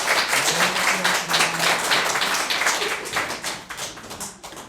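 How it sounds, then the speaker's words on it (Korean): A church congregation at a New Year thanksgiving service claps steadily for several seconds, the applause loud at first and gradually thinning out. "박수해 주시기 바랍니다"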